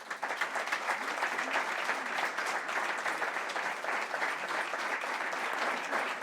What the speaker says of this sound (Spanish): Recibamos con un fuerte aplauso al presidente del Gobierno, Mariano Rajoy, y a Alberto Acosta